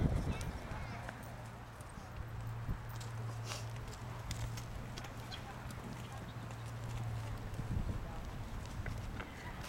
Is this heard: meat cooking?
no